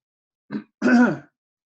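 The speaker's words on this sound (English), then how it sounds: "So sorry about the coughing and all that stuff." A short grunt followed by a harsh throat clearing, close up and on its own, with silence before and after.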